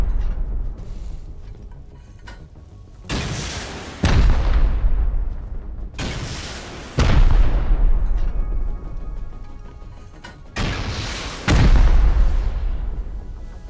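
Rocket explosions in the survival game Rust, four heavy booming blasts spaced a few seconds apart, each a loud broadband burst with a long rumbling decay, close and dominant with no talk.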